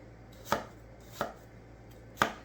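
Vegetables roughly chopped with a knife on a board, four distinct thuds at uneven intervals, close and clear with nothing else in the background.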